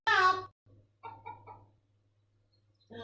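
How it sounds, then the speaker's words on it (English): Chicken clucking from the Story of Seasons: Pioneers of Olive Town farming game, a loud burst of squawking at the start, then softer clucks and a final cluck at the end over a low steady game hum. "Looks like my chicken's not the happiest of times here."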